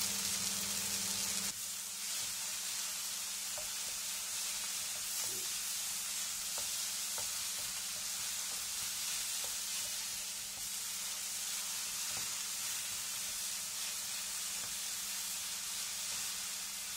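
Tomatoes with coriander leaves and curry leaves sizzle steadily in a pan for a soya chunks curry, a continuous bright frying hiss with small pops and spatters and no voice over it.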